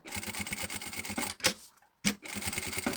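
A sewing machine stitches a seam around the edge of a small fabric wing, a fast close rhythmic clatter that halts briefly with clicks and then resumes, with no talk.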